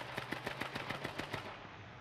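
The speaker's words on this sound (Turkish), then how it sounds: "Yo, adam tepeden vuruyor işte" Rapid automatic gunfire from the H1Z1 battle royale game, about a dozen evenly spaced shots in a quick steady burst, loud and close, then cutting off into a quiet tail.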